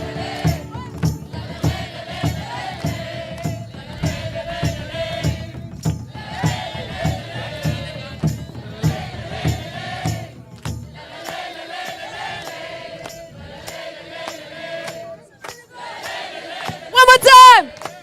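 A large crowd at a Sadhguru gathering in Budapest chants and shouts in unison on a count, with rhythmic bursts of many voices and pauses between them, and a final louder cheer at the end.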